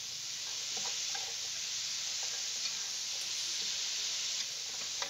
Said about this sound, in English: And let's get them coated with the olive oil. Mix them around a little bit.